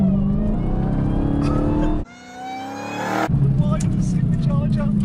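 A supercharged Dodge Demon muscle car revs hard close by, with someone speaking over the loud engine at the start and end. In the middle the engine note climbs on its own.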